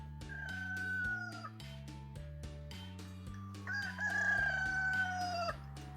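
A rooster crows twice, long drawn-out calls standing out over a steady, bouncy musical backing with no talking.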